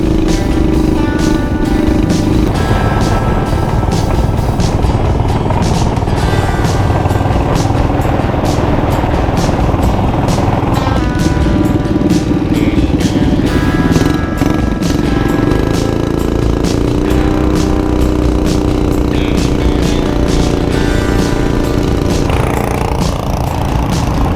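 A CT-200 mini bike engine rides a bumpy wilderness trail near Poage Lake on soft, underinflated tires, its small motor droning loud and steady throughout, with pitch rising and falling as the throttle changes, over clattering from the rough ground.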